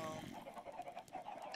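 Chickens cluck in a zombie-themed video game, a soft continuous run of clucks and murmuring calls, fairly quiet and steady.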